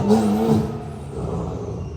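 A loud 1,000-horsepower Porsche 911 engine revs up and then settles into a rumbling idle, close by, at an exotic car show.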